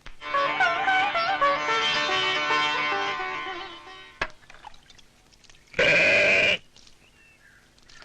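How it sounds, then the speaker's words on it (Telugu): A sheep bleats in a long, wavering cry, followed after a pause by a sharp knock and a second short, loud bleat, close and alone. "గొర్రె తలుపులు బద్దలు కొట్టుకొని వచ్చేస్తుంది."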